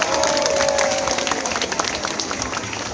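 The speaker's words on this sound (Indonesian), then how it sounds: "Coba tepuk tangan untuk Pak Menteri." Crowd clapping for the Minister of Education at an outdoor education festival walk in South Sulawesi, a steady wash of applause with a sustained tone running through the first part, fading slightly toward the end.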